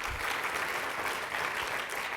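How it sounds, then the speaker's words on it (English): A dinner audience at a 2015 discussion event with Van Jones breaks into a dense, steady round of applause that fills the whole moment without pause. "Give them a round of applause."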